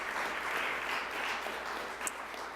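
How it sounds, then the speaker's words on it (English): An audience at a public health month kick-off event claps in a soft, continuous wash of many hands, fairly distant and even, with no talking over it. "let's give those two individuals a round of applause."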